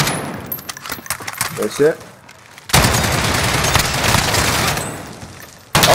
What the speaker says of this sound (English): He was shooting the other guy.